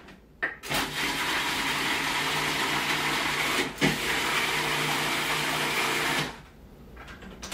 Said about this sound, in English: So then we are going to blend it all together.